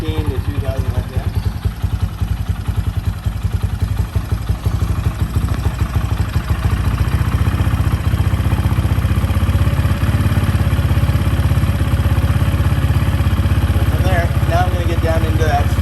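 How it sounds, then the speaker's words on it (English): A warmed-up motorcycle engine idles at a raised speed, a loud, close, steady pulsing thrum with some mechanical clatter, while a person talks over it. "I'm going to adjust the idle up higher."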